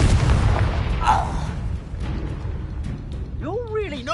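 A Confringo blast spell from Hogwarts Legacy goes off as a short boom and burst, following a chain of spell casts and a blend of game effects, with a voice talking over the action.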